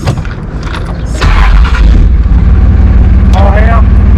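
Race cars thunder at Cocopah Raceway: an already loud engine roar swells into a heavy, booming rumble that stays close and powerful, with a brief voice faintly audible over the din.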